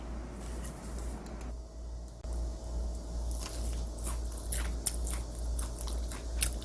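Someone bites and chews fried potato sprinkled with sugar, garlic-oil roasted, close to the mic: a series of soft crunchy bites and wet chewing over a low background hum.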